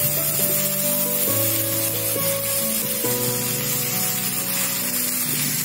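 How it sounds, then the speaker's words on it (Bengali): Soya chowmein noodles fry in oil in a wok, a steady, close hissing sizzle throughout with soft background music tones underneath. "এবার আমি চাউমিনগুলোকে ফ্রাই করে নেব"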